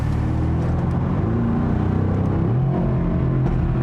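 A 2020 Mercedes-AMG GT R Roadster drives along with a steady, full engine rumble and drone that holds near and loud throughout, with no voices over it.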